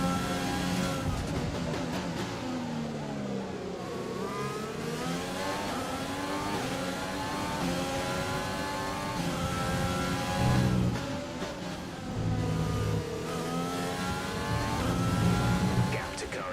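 Race car engine in an F1-style racing video game revving steadily throughout, pitch climbing and falling with gear changes, with a brief louder surge near the middle and speech over it.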